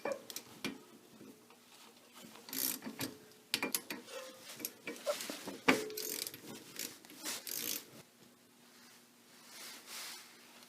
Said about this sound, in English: we're going to remove these 4 little bolts